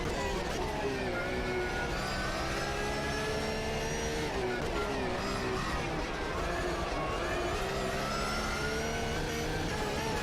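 A race car in the Automobilista 2 driving game revs continuously, the engine note rising and falling through gear changes, loud and close throughout, with someone talking faintly underneath.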